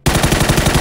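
Rapid automatic gunfire in PUBG on the Miramar desert map, a loud close burst of evenly spaced shots lasting just under a second.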